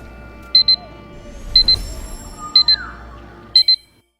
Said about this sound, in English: You heard the alarm go off.